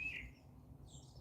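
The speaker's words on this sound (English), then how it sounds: "All types of birds flying around here." Outdoor birds give two brief chirps, one at the start and a thinner one near the end, faint against a low steady background.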